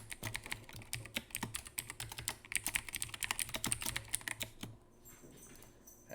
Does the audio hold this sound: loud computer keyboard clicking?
yes